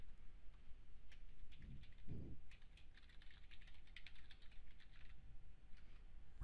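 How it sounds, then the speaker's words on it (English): An email address typed on a computer keyboard while setting up Office 365 and OneDrive, a quick run of close, quiet key taps over soft background noise with a couple of duller thumps early on. "type in your email again"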